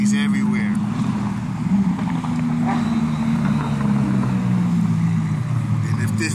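A stream of Lamborghinis cruises down PCH in Santa Monica, a steady engine drone with a slowly shifting pitch as cars pass nearby, with a voice talking over it.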